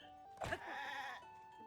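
Goats in a fenced pen at a stable in Zelda Tears of the Kingdom give one clear, wavering bleat up close, alone against quiet game ambience.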